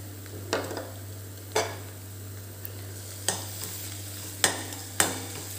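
Chopped tomato stirred into sautéed onions for aloo palak, a soft sizzle with about five scraping spoon strokes against the pan, spaced unevenly, under a steady low electrical hum.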